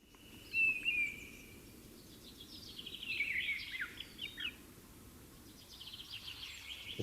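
A mistle thrush sings from a high perch, faint and distant in short varied phrases that do not repeat, over a steady low rumble of traffic.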